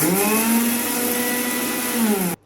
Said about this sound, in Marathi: आता धने पावडर मिक्सरला बारीक करून घेतलं